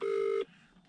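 A single steady telephone dialing tone from a phone call being placed, a clean held beep lasting under half a second before cutting to quiet room noise.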